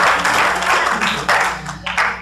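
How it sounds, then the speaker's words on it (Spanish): A church congregation applauding loudly after a sermon, a dense burst of many hands clapping together, steady and close with small surges, no voices over it. "Dale un aplauso fuerte al Señor"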